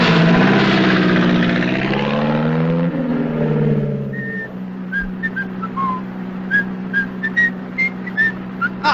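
A propeller aircraft engine starts for takeoff in a World War 2 film: a rising, whining tonal start-up fades into a steady low engine drone, with faint intermittent chirps on top.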